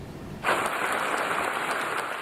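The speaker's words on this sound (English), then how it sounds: "A round of applause and a standing ovation for Smith County Judge Neal Franklin following his State of the County address" Sustained applause from a large audience after Smith County Judge Neal Franklin's State of the County address in Tyler, bursting in suddenly after a quiet moment and holding steady at full strength.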